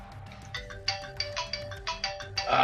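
A phone ringtone plays a repeating series of bright electronic tones in a steady rhythm, moderately loud and close, with no talking over it.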